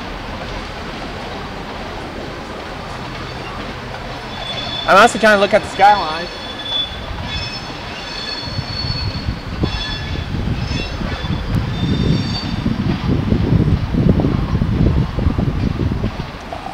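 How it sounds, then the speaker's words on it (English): Train rolling past at close range near Tulsa International Airport, steady rumble of wagons and wheels building through the clip with a burst of squealing wheels early on; someone speaks briefly over it. "Watch us here as this train goes by"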